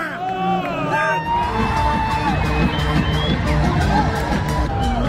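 Fans cheering at a Phillies game in Citizens Bank Park, a loud roaring crowd with whoops and yells all around, voices shouting close by.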